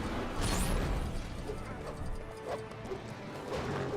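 Horse hooves clip-clop through the LEGO The Lord of the Rings video game, a steady stream of loud, close hoofbeats with a faint whinny, set against a dense backdrop of game music and effects.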